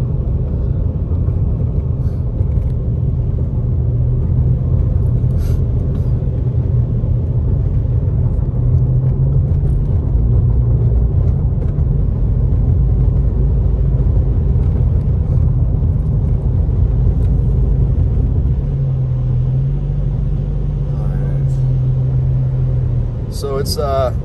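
Steady low road rumble inside a moving car on a mountain drive near Big Bear, California, with the engine drone holding constant and a voice talking over the noise at times.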